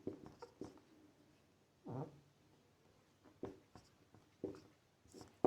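Teacher writing out a math solution, chalk or pen giving a few scattered scratching strokes with quiet pauses between them, faint and close.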